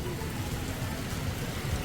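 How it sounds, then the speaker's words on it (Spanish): Heavy tropical rain pours down in Port Barton, Palawan, a dense, constant hiss of drops drumming on surfaces close by, with no pauses through the short stretch. "Está lloviendo a cántaros."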